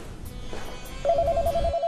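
Telephone ringing indoors in an old drama scene, a quiet electronic repeating tone that starts partway through and continues steadily to the end, with faint room sounds behind it.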